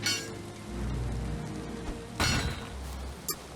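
Rain falls steadily in the survival video game Valheim, a continuous soft hiss with a louder gust or splash part way through, and no talking over it.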